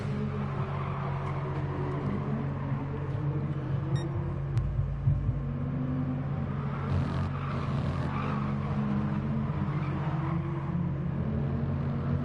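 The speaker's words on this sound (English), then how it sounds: "Listen to them squirting the tyres through the corners." BMW race cars cornering at Brands Hatch in a racing game produce a steady, droning engine rumble with faint tyre scrub, continuous and moderately loud throughout.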